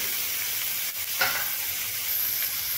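Onions sizzle steadily in a hot pan for a dhaba-style rajma masala, with a constant bright hiss and a couple of scraping stirs partway through, close and continuous.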